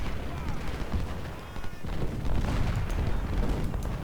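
Musket and artillery fire rumble continuously on a Civil War battlefield at Shiloh in Ultimate General: Civil War, a dense, steady roar of distant volleys and booms throughout.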